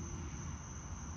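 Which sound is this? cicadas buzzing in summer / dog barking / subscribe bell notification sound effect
cicadas buzzing in summer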